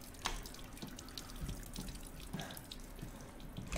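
Water running steadily from a tap in the Resident Evil 8 video game, a continuous faint splashing stream with small drips, heard alone without talk.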